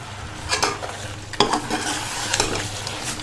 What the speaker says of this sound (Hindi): आधा किलो हम इसमें मटर डालेंगे